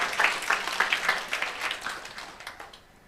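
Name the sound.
church congregation applauding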